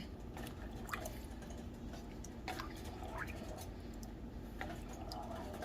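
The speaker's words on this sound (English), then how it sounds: "Give it a little stir." A Jamaican oxtail stew is stirred in a pot, giving faint wet squishes and soft liquid drips against a low, steady background.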